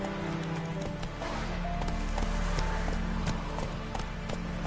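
The horse Roach gallops in The Witcher 3: Wild Hunt, with rapid, steady hoofbeats under a continuous layer of game ambience and tonal music.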